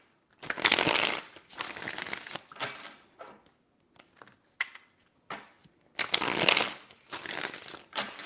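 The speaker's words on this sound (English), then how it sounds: "3 shuffles." Tarot cards being shuffled by hand in several loud, close bursts of riffling and crinkling, separated by short pauses, with no talking.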